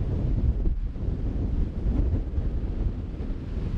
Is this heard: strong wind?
yes